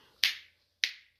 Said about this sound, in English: Snap your fingers a little bit